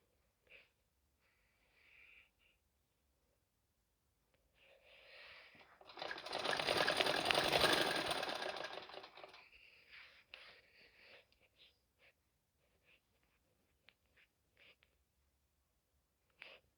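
A sewing machine stitches a neckline on a garment, running in one sustained burst of a few seconds, with faint handling clicks and rustles before and after in a quiet room.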